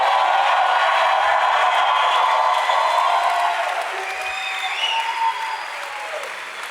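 A crowd applauds steadily, the clapping dense and sustained before thinning slightly toward the end, with faint cheering mixed in.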